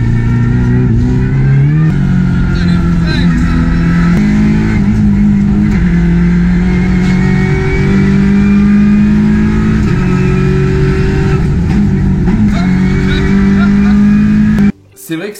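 A Peugeot 308 Cup race car at Barcelona screams through repeated gear changes, its engine pitch climbing and dropping loud and close from inside the cabin, before cutting off with brief talk at the end.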